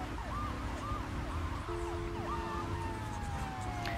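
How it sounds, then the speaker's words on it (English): Police sirens in the video game Grand Theft Auto The Trilogy wail and yelp in overlapping, faint rising and falling sweeps over a steady background of traffic and engine noise, with one long siren tone stretching across the end. "What's with their sirens? They're like broken or something?"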